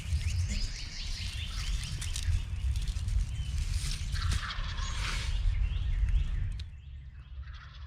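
Distant turkey gobbles rattle through dense outdoor background noise, several calls overlapping across the stretch before the sound drops off near the end.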